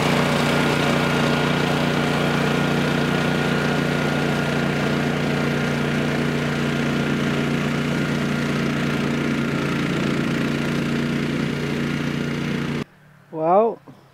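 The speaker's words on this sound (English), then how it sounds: "So I'm gonna mow this area" A lawn mower cuts a wet field, its engine a loud, steady close-up drone for about thirteen seconds before stopping abruptly, followed by a brief voice.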